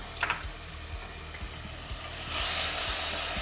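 Blended tomato paste goes into a hot pan of cooked garlic and sizzles steadily, with light spoon scrapes and clicks; the hiss swells noticeably louder partway through.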